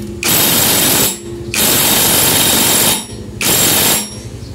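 Impact wrench fitted with a size 22 socket loosening the CVT nut on a Honda Click 125/150i scooter, firing in three loud, sustained hammering bursts separated by short pauses, with no one talking.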